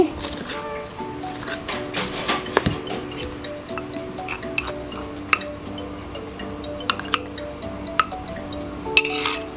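Cake tiwul batter made with cassava is stirred in a bowl, giving close, irregular clinks and taps of the utensil against the bowl with soft scraping between them.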